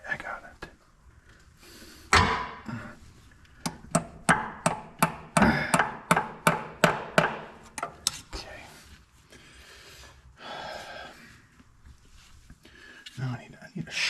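About a dozen sharp hammer blows in a quick, steady run while a motorcycle part is fitted, loud and close, with quieter knocks and a low murmuring voice before and after.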